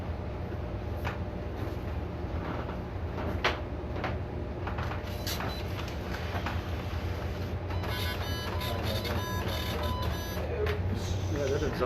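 A printer churning out a timing slip at a drag racing event, a steady mechanical whir with faint clicks and feed noises, moderately close amid background ambience.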